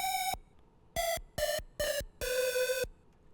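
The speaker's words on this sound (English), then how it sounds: "I layer that with the lead exported and chopped" Chopped, exported synth lead layered with a supersaw, sounding as five bright, harmonic-rich stabs of varying length in a staccato pattern, the last one held longest, with no voices.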